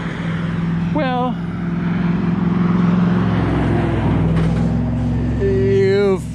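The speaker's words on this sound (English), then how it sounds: "you've probably heard enough traffic for now" Road traffic rumbles and hisses past on a long-distance loop journey, a steady broad roar under people talking nearby.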